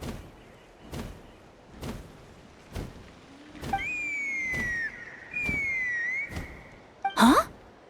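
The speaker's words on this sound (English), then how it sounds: "That sounded like a whistle." A whistle in a video game sounds as two sustained, sliding high notes, one after the other, over a regular beat of soft thumps, and a short loud burst closes the clip.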